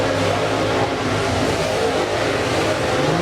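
Late model race cars roaring around the dirt track at Putnam County Speedway, a dense, continuous engine drone from several cars at once with no clear individual passes and no voices.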